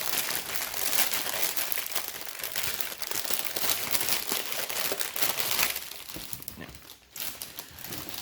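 A shipping package from a company for a Cooler Shock Shock Block being torn open, with loud, close plastic crinkling and rustling that runs continuously, no talking over it.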